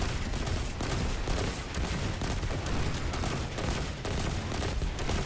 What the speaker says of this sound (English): swap to Warden's Law and empty the clip